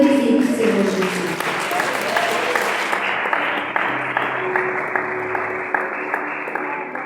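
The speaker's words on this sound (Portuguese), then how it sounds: "As palmas glorificam o Senhor Jesus." A church congregation at an evening prayer-circle service applauds steadily for several seconds, dense clapping under a voice that speaks over it, gradually thinning toward the end.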